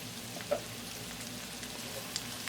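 Mushrooms and onion sautéing in butter and garlic in a pan, a quiet, steady sizzle with a few soft pops and stirring scrapes, heard close with no talking.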